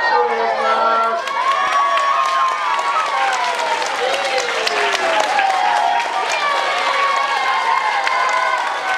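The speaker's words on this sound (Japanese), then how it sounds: "はい、拍手お願いします。" A crowd at a sumo practice event during a temple festival applauds loudly, with sustained dense clapping, cheers and children's shouts mixed with chattering voices throughout.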